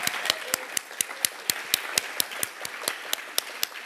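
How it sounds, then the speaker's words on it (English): An audience applauds trustee Ruth McKenzie, but the sound comes through as a sparse, regular run of distinct claps, fairly quiet and evenly spaced rather than a full ovation. "Give her a big round of applause."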